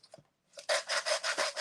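A sanding file rubs back and forth across a wooden craft frame, six or seven quick, even rasping strokes after a couple of light taps, close up and alone with no talk.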